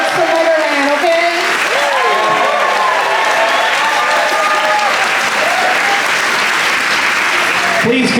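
A cheering audience aboard the JoCo Cruise gives a long, loud, steady ovation for the performer Mollylele, with whoops and shouted voices riding over continuous dense clapping.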